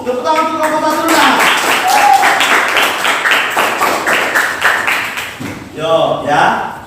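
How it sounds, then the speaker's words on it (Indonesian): A classroom of students claps for the first presentation group, a brisk, fairly loud patter of hands that rises and carries for several seconds, with a voice speaking over the start and again at the end. "Tepuk tangan untuk kelompok 1-nya."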